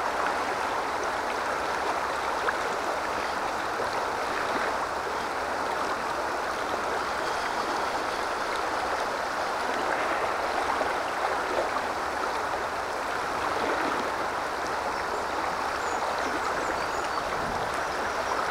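Broad, steady rush of river water flowing past during autumn salmon fishing on the Tyne, a continuous close wash of splashing current with no voices.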